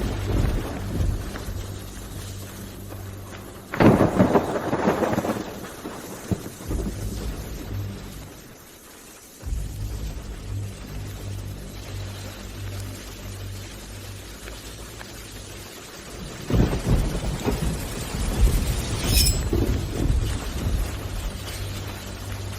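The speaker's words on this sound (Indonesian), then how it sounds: "lagi hujan" Steady rain pours with low rolling thunder, swelling into heavier rumbling bursts twice and easing between them. The storm is heard alone, without talk.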